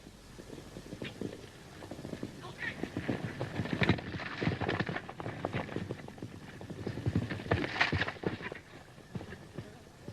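Hooves clip-clop in an uneven rhythm at moderate distance, with faint background sounds and no clear voices.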